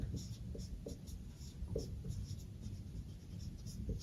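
Pen on paper while fund holdings are noted down by hand, producing soft, close scratching strokes in short repeated bursts under a man's ongoing speech.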